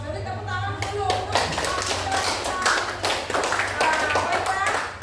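A classroom of students clapping together after a class performance, a dense steady patter of many hands close by, with voices talking over it throughout.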